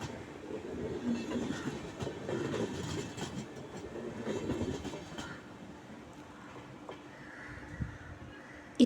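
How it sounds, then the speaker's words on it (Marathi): A train rolls along the railway track through green hills on the Borghat ghat section near Thakurwadi. Its steady rumble and wheel clatter carry loudly for most of the stretch, then ease off toward the end. "अशा हिरवाईमध्ये ही ट्रेन बघणं हा आनंद काही वेगळाच असतो."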